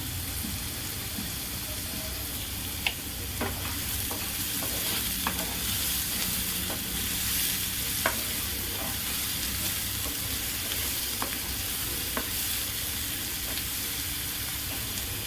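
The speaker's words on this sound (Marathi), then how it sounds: "कांदा छान लालसर करू परतून घेऊ।" Onion sautéing with salt in a pan for Maharashtrian green chilli thecha makes a constant close sizzle and frying hiss, with occasional spatula scrapes and taps through the clip.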